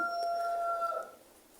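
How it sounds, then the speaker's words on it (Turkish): A rooster crows once, a long drawn-out call held for about a second before tapering off, moderately distant with no talking. "Bu horoz kardeş birisiyle karşılıklı ötüşüyor."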